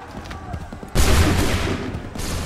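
Musket volley in the Assassin's Creed 3 video game: a sudden loud crack of massed shots that rolls on into a long, noisy rumble of battle.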